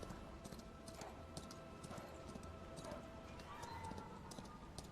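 A horse's hooves clip-clop steadily on auto run in the Chrono Odyssey video game, a faint and even gait under game ambience.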